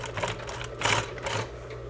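A domestic sewing machine stitches a half-inch seam in fabric, with back stitching at the start; a steady mechanical whir runs through with quicker bursts of stitching, close and fairly loud, no talking.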